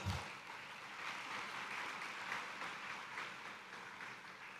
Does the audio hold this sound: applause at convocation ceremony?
yes